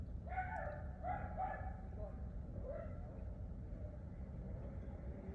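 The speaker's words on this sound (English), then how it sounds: "all of the dogs that are being walked around me" Small dogs yip and bark a few times close by near the start and again around the third second, over steady outdoor traffic rumble while several dogs are walked around.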